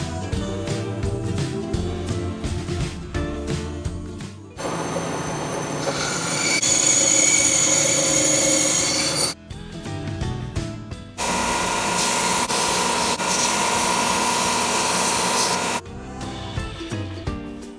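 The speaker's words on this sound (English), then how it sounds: "next I'm going to get rid of these sharp corners and I'll put a radius on them." A power tool, likely a router, rounds over the sharp corners of wooden shelf pieces for camper van storage, running in loud sustained bursts with pauses between passes and no talking.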